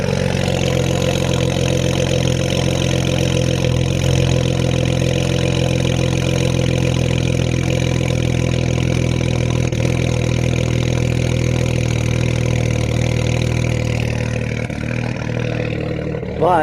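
A BMW 335i engine idles with a cylinder misfire, a loud, close, continuous rumble that carries on steadily for over fifteen seconds with a faint uneven stumble and no voices.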